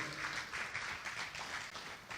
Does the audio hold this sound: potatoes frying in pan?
no